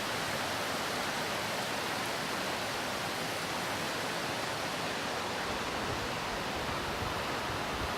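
Mountain waterfall at about 11,200 feet altitude rushing in a steady, dense broadband roar that fills the whole clip without break, close and continuous with no voices.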